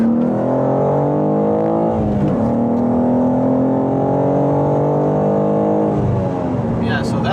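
A BMW G87 M2 with traction control fully off pulls hard in second gear from a 40 mph roll, its engine note loud and close, rising steadily, with brief dips at the gear-related pauses and a voice talking over it.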